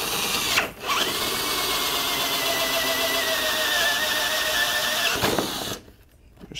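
A battery-powered drill drives screws while a FATMAX airbrush kit is assembled: a quick whirring burst, a brief dip, then one long steady whine that stops abruptly near the end. Nobody speaks.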